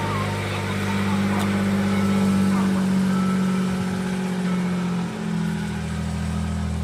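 Suzuki Jimny engine running through its exhaust at a car auction, a steady mid-pitched drone that swells slightly as it revs, close and continuous throughout.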